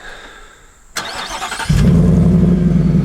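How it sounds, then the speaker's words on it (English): A quick crank and catch as a supercharged Ford F-150 pickup engine warm-starts, then settles into a steady, low rumbling idle, close and fairly loud. "see, that's a warm start, so it just has the nice little rumble"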